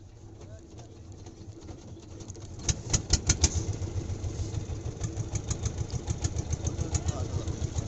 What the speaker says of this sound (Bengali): আমরা নদীর ওপারে যাওয়ার পথে ইঞ্জিন বন্ধ হয়ে যায় যা আবার পরে ইঞ্জিনটা চালু করে